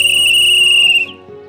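A loud, steady high-pitched whistle holds for about a second and then cuts off abruptly, leaving a faint low background.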